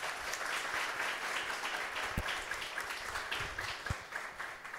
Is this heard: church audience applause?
yes